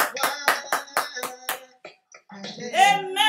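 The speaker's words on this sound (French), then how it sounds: "Applaudissons pour Jésus." A church congregation claps in praise of Jesus with about seven sharp, evenly spaced hand claps, then a short pause and brief singing or talk at the end.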